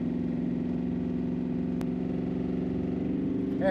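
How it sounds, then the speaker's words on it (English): An Ultra4 off-road race truck at the Nationals desert race in Laughlin, Nevada, its engine droning steadily and loud at close range, with the revs climbing sharply at the very end. "Hear the revs going up."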